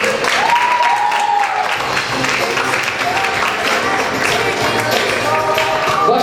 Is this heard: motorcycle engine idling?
no